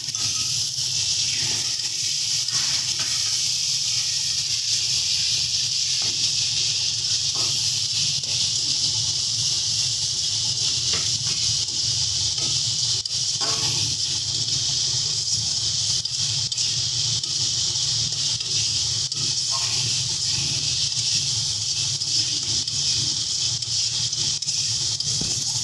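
Bengali spice paste (masala) frying in a pan for a tengra fish curry, a steady close hiss with soft occasional scrapes and pops, continuous and unvarying.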